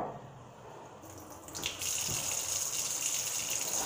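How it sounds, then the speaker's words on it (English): Pork chops are rinsed under a running kitchen tap. A quiet start gives way to a steady splashing gush of water into the sink, near and constant, with a small clatter partway through. "I'm gonna wash the pork chops off real good"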